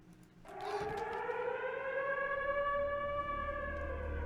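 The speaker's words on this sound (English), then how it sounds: "You heard the siren go off." A civil defense siren wails in the Black Ops 3 Zombies Revelations intro cutscene, rising in after a short pause and holding a loud, steady, sustained tone to the end.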